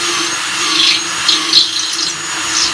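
Power drill boring a hole during a pressure washer refurbishment, a steady whirring drone with a few brief louder surges of strain, heard close and alone.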